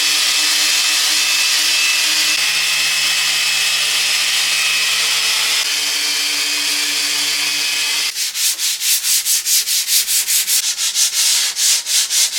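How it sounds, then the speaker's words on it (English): Dried wood filler on a piece of furniture is smoothed by hand with 240 grit sandpaper, a close, steady rubbing hiss that turns into quick rhythmic back-and-forth strokes near the end. "It doesn't need much, it's fairly smooth, so I'm just going to clean it up with 240 grit"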